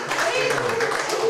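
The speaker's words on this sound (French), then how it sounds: "que je demande d'applaudir" A poetry festival audience gives a short burst of steady applause, with a voice speaking over the clapping.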